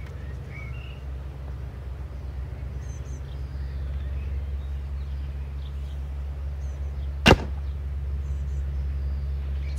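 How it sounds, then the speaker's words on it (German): A recurve bow fires once, a single sharp snap that stands out against a steady low hum from the surroundings. "machen wir drei Pfeile mit dem Standard-Setup"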